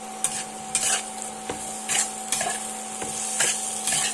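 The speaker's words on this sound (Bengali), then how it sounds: "মশলাটাকে আলুর সাথে ভালো করে কষিয়ে নেব" Cumin, coriander and Kashmiri red chili powder with slit green chilies fry with potatoes in a pan for a cabbage ghonto, a spoon scraping in repeated strokes every half second or so over a steady close sizzle, with no talking.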